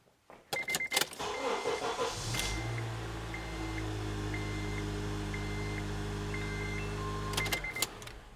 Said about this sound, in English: Telling me to start the engine.